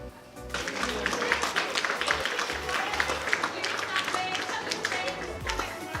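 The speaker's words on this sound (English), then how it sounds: "They're all clapping for me actually." A crowd claps and applauds in a dense, continuous patter, starting abruptly and holding steady at moderate loudness, with voices mixed in.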